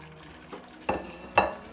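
Chopped carrots and onion frying in a pan give a quiet background sizzle broken by three short stirring scrapes that grow louder, with no talk.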